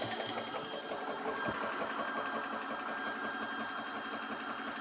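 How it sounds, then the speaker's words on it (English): An OrcAir Digital 4500psi high-pressure air compressor running close by, giving a steady, fairly quiet mechanical hum with a fast rhythmic chugging pulse throughout. "it is a pretty quiet compressor when running"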